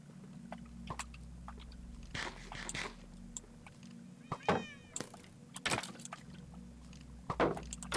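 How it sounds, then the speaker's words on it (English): A cat in a video game meows amid quiet game ambience, with a low background hum and scattered clicks and soft crunching sounds. "I mean, there's that cat. But the cat doesn't seem to be hostile."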